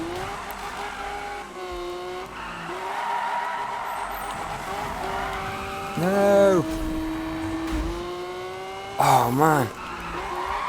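A car in Need for Speed 2015 drifts through race corners, engine humming steadily while tires let out two loud, warbling skid screeches midway and near the end; someone briefly speaks over it.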